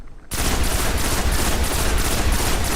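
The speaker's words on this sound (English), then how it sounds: "with the Oversoul Edict. Each shot contains 3 bullets." Rapid automatic gunfire from the Oversoul Edict, a burst-firing auto gun in Destiny, starting abruptly and continuing as a loud, dense, evenly pulsed stream of three-round bursts, with no talk.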